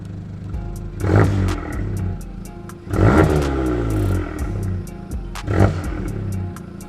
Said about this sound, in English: let me rev it for y'all